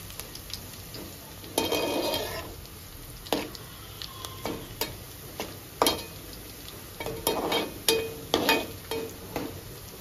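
Thinly sliced onions frying in a pan for a methi mutton curry, a soft sizzle beneath repeated scraping stirs that come in short uneven bursts, close and moderately loud.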